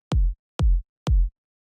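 Three separate electronic tech house kick drum hits, dry and unprocessed with no EQ, each a punchy deep thump with a long booming low tail, evenly spaced about half a second apart, loud and alone.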